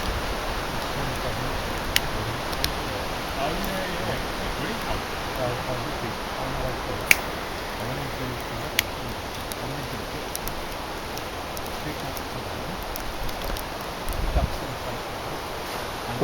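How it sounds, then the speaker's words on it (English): Steady broadband wind rush outdoors with gusting buffeting on the microphone and occasional faint clicks, continuous throughout. "Nice old windy day."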